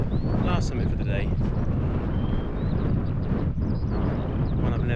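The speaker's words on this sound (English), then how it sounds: "Still a bit breezy, as you can probably hear." Wind buffets the microphone on a fell summit along the Kentmere Round in the Lake District, a steady broadband rumble and rush that persists for the whole stretch, close and fairly loud, with faint voice-like sounds mixed in.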